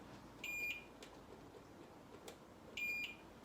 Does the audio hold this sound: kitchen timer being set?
yes